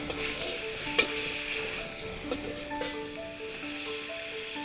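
Meat and garlic sizzle and hiss in a very hot, smoky oiled pan while being stirred quickly for Thai pad see ew, a steady fry with a few sharp clatters of the utensil against the pan.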